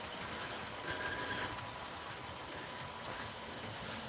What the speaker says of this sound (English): Sounds like a coal train.